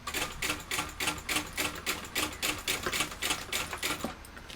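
A sewing machine topstitches through a tote bag connector with a rapid, rhythmic pulsing chatter, close and moderately loud, in short bursts that run continuously.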